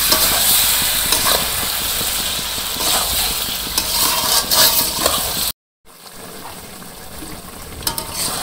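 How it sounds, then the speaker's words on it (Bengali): Mango pickle with sugar sizzles and hisses steadily as it is fried and stirred in a pan, with scraping touches; the sound drops out briefly, then resumes more quietly. "চিনি দেওয়ার পরেও অনেক সময় ভাজা ভাজা করে নিচ্ছি"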